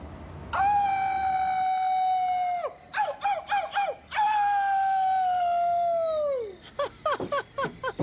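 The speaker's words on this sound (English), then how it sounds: "Why do coyotes howl? It sounds so sad and lonely." Two long, drawn-out coyote howls with sustained wavering tones, each followed by short yipping barks, loud and close with no talking.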